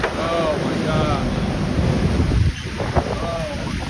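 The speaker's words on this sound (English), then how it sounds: "When the wind is so strong, even the fire station needs to be rescued." Strong wind roars steadily and loudly near the microphone, buffeting it with a dense, unbroken rush, with a brief dip partway through before the gusting picks back up.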